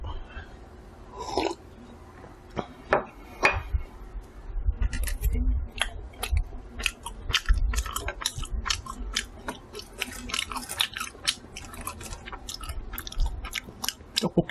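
Tteokbokki with egg and fish cake is eaten close to the mic, with soft wet chewing, clicks and irregular smacking bites spread through a quiet room, and no talking.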